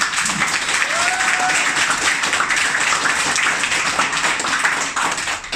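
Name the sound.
audience clapping at leadership training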